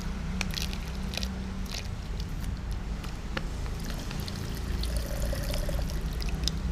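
Water is poured into a blender glass holding banana, a steady pouring trickle with scattered small clicks and knocks, fairly close and continuous throughout.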